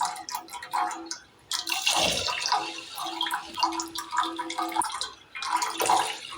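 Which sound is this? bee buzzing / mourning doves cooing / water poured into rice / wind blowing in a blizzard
water poured into rice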